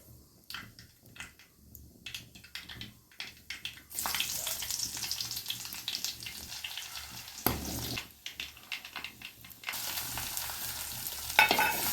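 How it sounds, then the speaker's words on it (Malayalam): Oil sizzling in a clay pot being seasoned, with bursts of loud frying hiss alternating with quieter stirring and scraping sounds, close up with no voices. "അപ്പം ഇനി നമുക്കിത് കൊണ്ടു വറുത്തെടുക്കാം"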